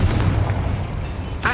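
A Confringo blasting spell explodes in Hogwarts Legacy, a loud booming burst with a rumbling low-end tail that fills the whole short moment.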